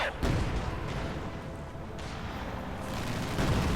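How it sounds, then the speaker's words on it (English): Company of Heroes 2 battle gunfire directed at a vehicle: a loud burst of booming fire up front, then a sustained dense rumble of shots and explosions swelling again toward the end. "Infantry firing on our vehicle."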